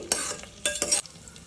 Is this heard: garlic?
yes